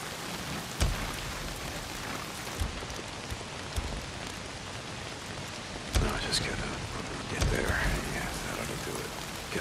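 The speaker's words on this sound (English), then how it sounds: "Well, not if it's pissing down rain." Heavy rain pours in a video game, a dense steady hiss of downpour with scattered louder drops and splashes and a few sharp cracks, filling the scene from start to finish.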